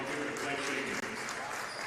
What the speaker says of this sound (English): It's a round of applause for her 15-point performance tonight.